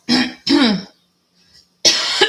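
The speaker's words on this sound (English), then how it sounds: "you hear me coughing over that?" Someone close by coughs and clears their throat in harsh bursts, two quick ones, a short quiet pause, then another rough cough.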